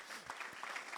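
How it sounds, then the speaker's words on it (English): A live audience applauds a speaker named Angela as she is called up at an event, a steady wash of clapping filling the whole moment with a few louder hand claps near the front. "Give her a huge round of applause."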